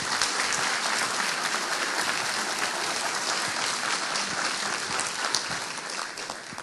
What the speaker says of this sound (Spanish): un aplauso para el expresidente del Gobierno español, señor Aznar.